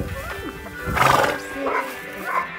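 A horse whinnies on a farm in České Budějovice, Czech Republic, with one long neigh in the middle and two shorter whinnies following, set against faint outdoor background noise.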